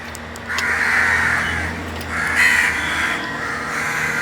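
Crows caw outdoors in a few loud, harsh bursts, spaced about a second apart, with faint background noise between calls.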